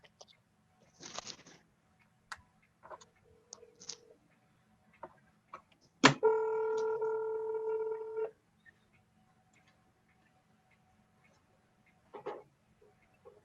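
Telephone being dialed to place a call: a few scattered soft clicks and taps, then a sharp click followed by a steady two-second tone, and later another faint click, all in a quiet room.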